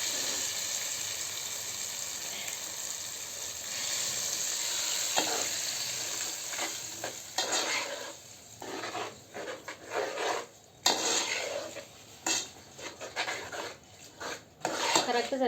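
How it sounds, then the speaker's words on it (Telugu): Spices are stirred into gongura chutney in a pan, a quiet scraping and clinking of a spoon against metal in irregular strokes, with a faint sizzle underneath and occasional soft talk. "మనం పచ్చడిలో వేసేసుకొని కలుపుకోవాలి."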